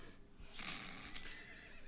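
Horse in the video game West of Loathing letting out a short, bright neigh followed by a second brief whinny, fairly faint over a quiet background.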